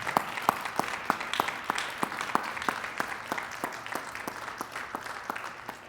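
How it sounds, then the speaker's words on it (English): An audience at a lecture gives a round of applause, a moderate crowd clapping in a fairly regular, rhythmic pattern with distinct sharp claps throughout, steady and mid-distance. "let's give him another round of applause"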